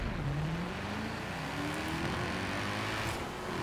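An LS-swapped car in Forza Horizon 4 droning under load, its engine note climbing slowly and steadily as it struggles to pull, sounding strained and continuous at moderate volume with no talking.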